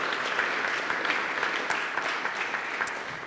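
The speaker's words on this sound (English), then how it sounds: "I think that deserves a rousing round of applause from the rest of us." A congregation at a church morning gathering breaks into sustained applause, a dense, steady patter of many hands clapping at moderate distance, continuing evenly without speech.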